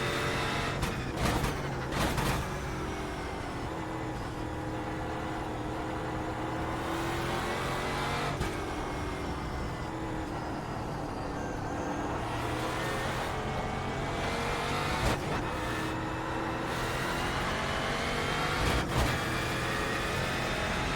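A racing car on an easy out lap in a driving video game sends out a continuous engine drone that rises and falls gently through gears, with short sharp transient clicks scattered throughout and no voices.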